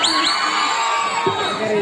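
A crowd at a gay pageant event shouts and cheers continuously, with whoops and high voices layered throughout a short, busy burst of noise.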